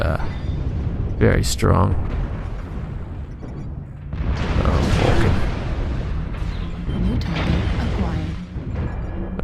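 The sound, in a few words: heavy weapon fire hitting mech in MechWarrior Online video game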